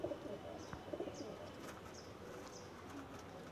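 Pigeons coo softly in a few low, rolling calls, fairly distant and faint against quiet outdoor ambience.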